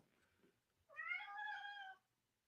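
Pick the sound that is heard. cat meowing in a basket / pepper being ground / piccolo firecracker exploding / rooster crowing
cat meowing in a basket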